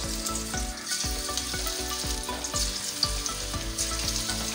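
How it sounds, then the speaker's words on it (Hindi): Small masoor dal pakoras go into hot oil for deep frying with a loud, continuous bubbling sizzle and a quick series of close spoon taps and scrapes. "ऑयल हमारा गरम हो गया है और अब हम इसे छोटे छोटे पकौड़े डालेंगे इसमें"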